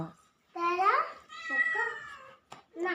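A cat gives a few drawn-out meows close by, separated by brief pauses.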